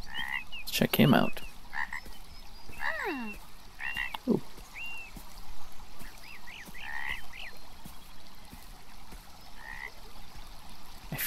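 Frog croaking in an indie video game, a run of repeated rippling croaks spread across the scene with a brief loud rustle near the start, fairly close over a soft ambient bed.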